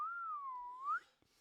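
A person whistles in imitation of a penny whistle: a single clear, sustained tone that dips and then slides upward over about a second, followed by a faint click in otherwise quiet surroundings.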